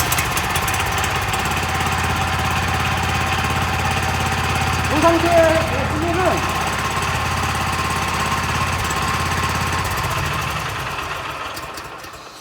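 A walking cultivator's small engine runs loudly and steadily with a rough, rattling idle, while someone speaks briefly over it before the engine note drops away near the end.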